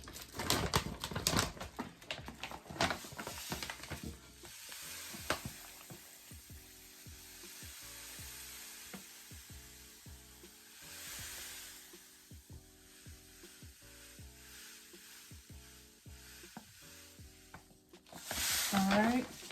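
Sugar being stirred into melted homemade body-scrub ingredients, a busy gritty scraping and tapping that keeps up throughout, louder at the start and swelling again at the end, with a steady hum underneath.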